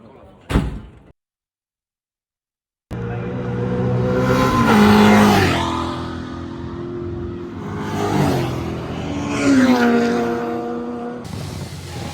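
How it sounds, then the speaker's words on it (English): Race car on a qualifying lap at Brands Hatch GP, loud onboard engine note rising and falling through gear shifts after a brief silence, with a short knock at the start. "So here is the fastest lap set for the car in qualifying, which Tom set for us."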